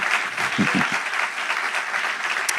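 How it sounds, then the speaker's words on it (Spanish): Subdued applause from a church congregation rolls on steadily for a few seconds, with a couple of louder, closer claps near the start and faint voices mingled in. "Es un aplauso tímido."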